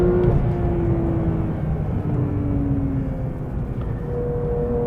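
A 2022 Porsche 911 GT3 at full throttle on the Road Atlanta track, the engine droning loudly and steadily from inside the car with a slowly shifting pitch and no talking.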